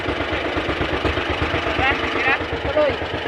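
A fishing boat engine chugs steadily after being restarted out at sea, a low pulsing rumble running throughout, with voices talking over it.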